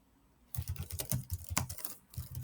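Rapid typing on a computer keyboard, a close, quiet run of clicking keystrokes that starts after a brief hush and continues in quick irregular bursts.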